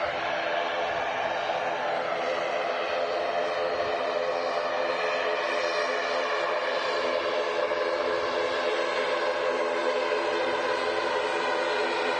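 An easyJet airliner at Manchester Airport gives off a steady broadband jet engine roar, sustained and moderately distant, with no voices over it.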